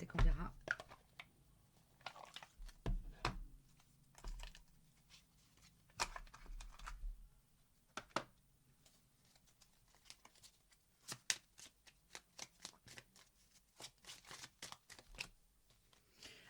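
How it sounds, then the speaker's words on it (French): Oracle cards are shuffled and drawn by hand, giving soft irregular slaps, flicks and riffles that come close and quiet amid a hushed room, with a voice speaking softly at times. "Je vais prendre une carte de mon oracle, une ou deux"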